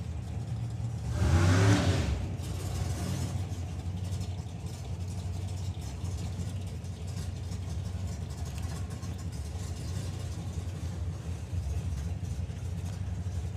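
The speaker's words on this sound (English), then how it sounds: "I can hear the engine running." A drag racing car's engine runs in the burnout box at a sportsman nationals drag meet, with a loud roaring burst early on before settling into a steady, throbbing rumble.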